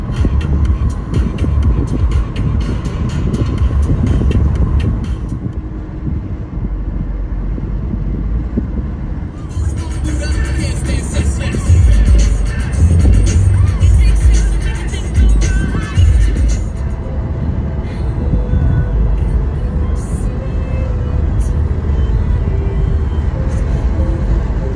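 A car drives along a long, hot desert road, with steady engine and road rumble heard from inside throughout and a brighter wind or tire hiss swelling in the middle.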